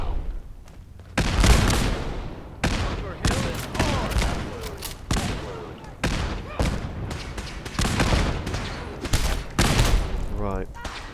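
Rapid gunfire in the video game Fallout 4, loud bursts of shots and impacts in quick succession, with a voice partly heard under the shooting.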